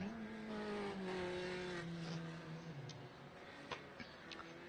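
Sim racing car drifting, its engine tone sliding downward while tires squeal in a sustained, fairly loud skid, with brief sharper clicks near the end and no talk.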